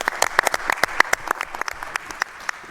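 A small group claps for the staff at the close of a live-streamed program, producing sharp, distinct hand claps at an uneven rhythm that thin out toward the end, nearby and fairly loud.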